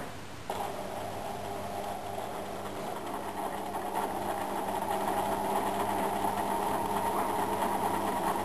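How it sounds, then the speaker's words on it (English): Sewing machine stitching a medium-width zigzag, a steady, loud mechanical hum and rattle that starts abruptly and runs on evenly without pause. "that's going to give us a medium-sized zigzag"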